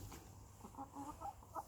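Easter Egger hens cluck softly in a short series of quiet, close calls over a faint background hum, with no talking.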